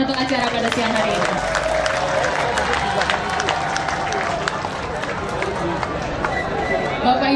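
Crowd at an outdoor street vendor site inauguration in Jakarta, with a dense wash of clapping and chatter running steadily throughout, voices mixed in the noise.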